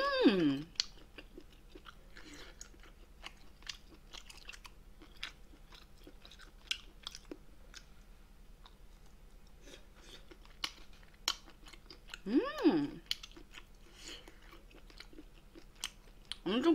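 Someone eats braised monkfish (agujjim), with soft, close chewing and small wet crunches scattered through a quiet stretch and a couple of brief louder moments.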